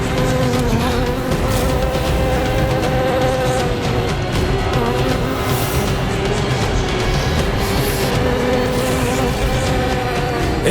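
Dense, continuous buzzing like a vast swarm of insects, loud and steady throughout, layered with droning tones in a mythological drama setting; no speech.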